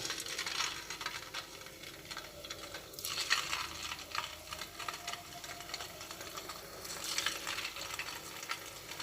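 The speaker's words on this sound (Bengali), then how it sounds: "তেলটা গরম হয়ে এসেছে তেলের মধ্যে এগুলো এক একটা করে দিয়ে দিচ্ছি" Pieces of semolina sweet dough are dropped one at a time into hot oil and fry with a soft, continuous bubbling sizzle. Brief louder bursts of crackle come through at a moderate, somewhat distant level.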